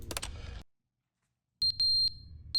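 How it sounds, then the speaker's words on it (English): A smoke alarm in The Stanley Parable: Ultra Deluxe sounds as a series of sharp, high electronic beeps, including one longer tone, after a brief stretch of speech and a moment of silence. "Oh, the smoke alarm."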